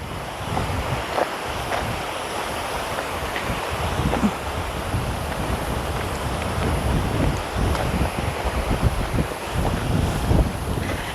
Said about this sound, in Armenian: մի քիչ քամի է խաղում, քամի կա